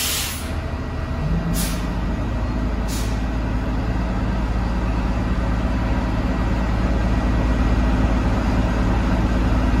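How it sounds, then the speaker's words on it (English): Shuttle buses standing in for the L train at a New York City terminal idle with a loud, steady engine rumble, and a few sharp air-brake hisses come early on. No one speaks. "we got buses replacing the train"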